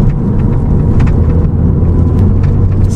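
A Volvo C30 T5 with Heico tuning drives along a small country road, its engine a loud, steady low rumble from inside the cabin as the turbo builds boost, with no voices.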